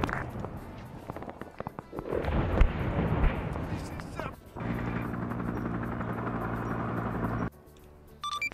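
Helicopter rotor and engine noise in a Vietnam war video game, a dense sustained drone mixed with distant gunfire and explosions, dropping away near the end as a voice talks over it.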